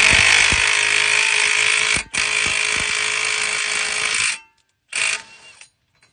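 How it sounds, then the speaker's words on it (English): An impact wrench whirs loudly and continuously while driving a new lug nut onto a Lisle 22800 wheel stud installer, with a short gap in the middle, then trails off into a brief final burst. "Take your impact and send it home."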